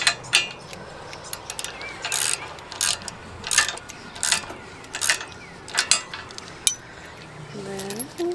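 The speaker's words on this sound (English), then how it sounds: "I use the ratchet on the bolt side because it won't reach the nut." Ratchet wrench turning a bolt during farm work, sharp metallic clicking strokes repeating in uneven bursts, close and fairly loud, with a few scrapes of metal between them.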